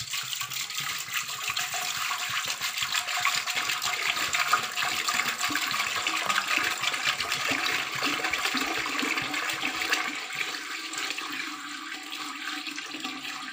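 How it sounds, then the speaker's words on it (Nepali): Water pours into an autoclave, a continuous rushing, bubbling stream that stays steady and close for many seconds before easing slightly at the end. "अब हामीले यसमा पानी हाल्छौँ"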